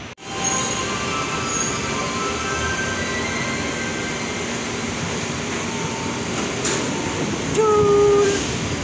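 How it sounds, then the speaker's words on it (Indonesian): Metro train pulling into a station in Sanchong, New Taipei, Taiwan, with a steady rolling rumble, hum and high wheel squeals near the end, close and continuous without speech. "Oke, keretanya sudah sampai."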